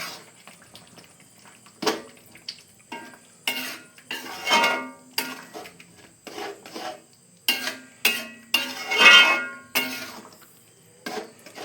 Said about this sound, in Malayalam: അല്പം മല്ലിയില ഇട്ട് കൊടുക്കുക. നന്നായി ഇളക്കുക.